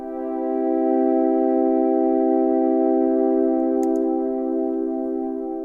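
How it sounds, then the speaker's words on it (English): A cloudy, warm-toned synth pad holds one steady sustained chord, with no added effects, swelling gently and staying smooth throughout. "type again cloudy synth pad with warm tone"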